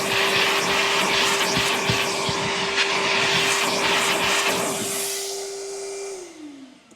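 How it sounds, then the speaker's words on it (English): A vacuum cleaner running loud and close as it sucks animal hair from a car interior, a steady whining roar with shifting suction noise that winds down and fades at the end. "Vacuuming that up."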